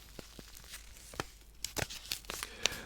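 Plastic is handled and crinkled close up in uneven, sharp bursts that speed up and cluster more densely toward the end, with no talking.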